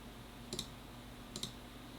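Two quick mouse clicks, each a sharp double tick, about a second apart, quiet and close against a faint steady room hum.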